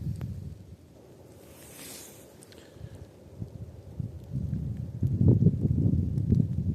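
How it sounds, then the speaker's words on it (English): Wind passes through the branches of copper beech trees along a trail, a low, rushing rumble that starts soft and swells into stronger, wave-like gusts toward the end. "the noise the wind makes passing through its branches"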